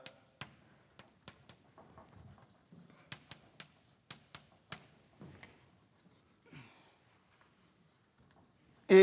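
A lecturer draws a diagram on a board during a lecture on the history of economic growth: a run of sharp, close chalk taps and short strokes in an uneven rhythm, with quiet gaps and faint background sound between them.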